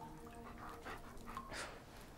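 A dog pants in quick, soft breaths, faint and close, over a quiet background hum in a television drama scene.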